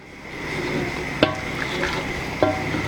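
A spoon stirring an eggplant stew in a pot, a soft continuous wet churning with two distinct scraping knocks against the pot, close by.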